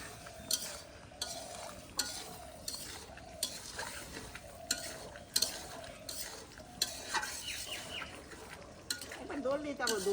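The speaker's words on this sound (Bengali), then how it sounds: "এরা মাছ ভাজতেছে" Fish frying in a pan in a home kitchen, with a steady sizzle broken by repeated scraping strokes of a spatula at a regular pace, close by, while voices talk intermittently.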